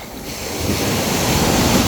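Big ocean waves break and surge at Mataró beach outside Barcelona, a loud, continuous wash of surf with rushing wind noise and no voices over it.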